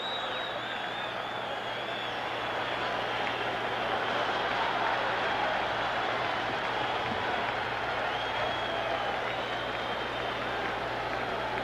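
The arena crowd at a 1972 heavyweight boxing match cheers and applauds in a continuous, distant wash of noise filling the hall.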